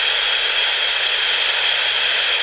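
Continuous hiss of radio static and white noise from a ghost box tuned to an empty FM frequency, 89.1, steady and loud with no breaks or voices.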